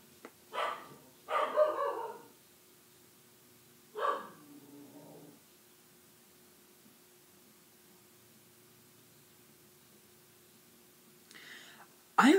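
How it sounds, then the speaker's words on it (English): A dog barks in the background indoors, a few short muffled barks early on and another at the very end, faint against a quiet room hiss with long silent stretches between. "that was my dog. My dog will never shut up."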